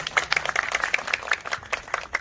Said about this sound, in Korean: 한 번 더 큰 박수로 주겠다고 박수 부탁드리겠습니다